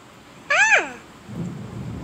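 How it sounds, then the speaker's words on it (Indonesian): Rain and thunder in a cave area of the video game Minecraft. A brief wailing tone is followed by a low, steady rumble that continues to the end, with no talking over it. "kawasan gua ini hujan, guys."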